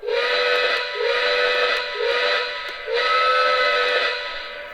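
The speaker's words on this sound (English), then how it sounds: "the whistle does quill a little bit depending on how you push the button." Steam whistle on a Lionel Rock Island 2-6-0 Mogul model locomotive blows four loud, close blasts, quilled so the pitch bends upward at the start of each, with brief breaks and no talking.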